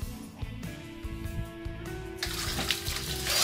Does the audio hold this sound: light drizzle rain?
no